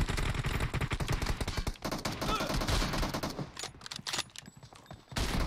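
Rapid gunfire from a PUBG Mobile match, dense bursts of automatic shots filling most of the stretch, loud and close, thinning into scattered separate shots toward the end.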